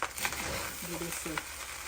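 Shrimp and turkey fried rice stirred in a hot pan, a soft sizzle with scraping, tossing sounds, while a voice speaks briefly over it.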